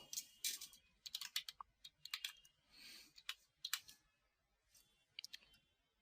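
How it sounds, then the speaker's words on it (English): Typing on a computer keyboard: quiet, close bursts of key clicks in short irregular runs with brief pauses, ending in a few isolated taps. "You can type whatever you want."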